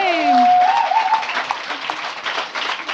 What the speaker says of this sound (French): On l'applaudit encore. On applaudit Calamine.